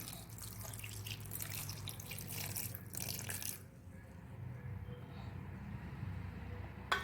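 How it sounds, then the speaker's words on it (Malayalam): Coconut milk pours steadily into a cooking pot of jackfruit for a few seconds, then stops, leaving a quiet background with faint drips. "നമ്മൾ ചക്കപ്പഴം വേവാൻ ആവശ്യമായിട്ടുള്ള രണ്ടാം പാലാണ് ഒഴിക്കുന്നത്"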